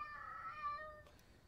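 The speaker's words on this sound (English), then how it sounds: "Kitty cat!" A single cat meows in a video game, one drawn-out, slightly falling mew that is clear but soft against a quiet background.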